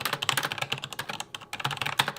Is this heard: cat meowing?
no